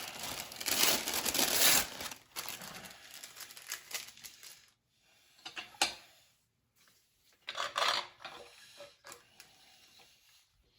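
Wax paper crinkling and rubbing while clamping a glued guitar headstock repair, a few short bursts of rustling and scraping separated by quiet gaps.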